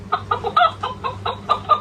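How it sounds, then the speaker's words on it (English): A hen clucking in a quick run of about eight short, evenly spaced clucks, close and clear over a low steady hum. "A hen is a female chicken."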